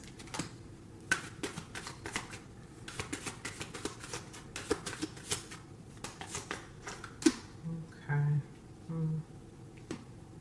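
Tarot cards shuffled by hand in a steady run of quick riffling clicks and soft slaps, close and fairly quiet, with a faint voice briefly near the end.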